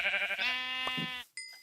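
A single drawn-out sheep bleat in a video game, loud and close, wavering briefly before cutting off, followed by a short high chime.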